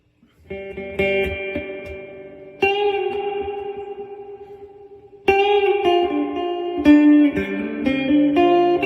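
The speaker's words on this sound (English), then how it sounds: "now we'll put it back on clean, and we'll turn the reverb up" Clean electric guitar chords through a guitar amp with the reverb turned up ring out with a spacious reverb tail, several strummed chords sustaining and washing into each other, no voices.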